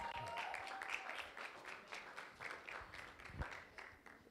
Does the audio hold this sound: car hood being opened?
no